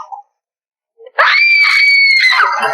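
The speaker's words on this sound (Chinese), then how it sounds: "通过某女郎的尖叫，门外的保镖立刻冲进来查看。" A woman in a dramatized film scene lets out a loud, sustained high-pitched scream lasting over a second, preceded by brief faint sounds and near silence.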